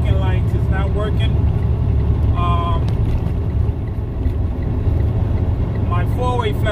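A Freightliner Cascadia truck pulling a trailer, with a steady loud road and engine rumble and wind noise, while someone talks over it throughout.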